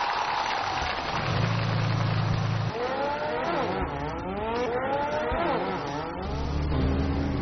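A homemade race car with an engine, chassis and body all built by its maker drives past, its engine revving and droning steadily for the whole stretch with rising and falling pitch.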